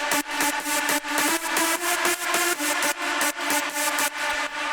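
A bright, buzzy big room synth lead pulses in a steady rhythmic pattern, loud and sustained with evenly spaced stabs and no voices.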